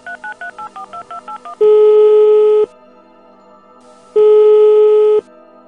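Touch-tone dialing beeps in Minecraft: a quick run of about ten short keypad tones, followed by two long sustained ringback-style tones separated by a pause, clean and with no talking.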